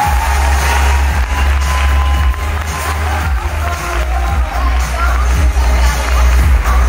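A large crowd at a corporate gala applauds and cheers as a guest is welcomed to the stage, with loud, continuous clapping over music and a booming low-end hum.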